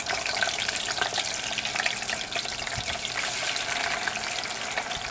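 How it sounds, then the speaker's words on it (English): French fries deep fry in hot grease, a dense steady hiss and crackle of bubbling oil, close and continuous with no talking. "So we're gonna put our fries in."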